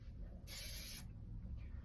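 A single hiss from a spray bottle, lasting about half a second, with quiet low rumble in the background.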